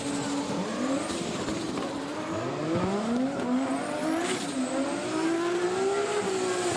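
A race car accelerates hard around the track during SEADS Round 7 of the NDS GP, its engine note climbing and dropping through gear changes, with faint tire squeal under a steady roar.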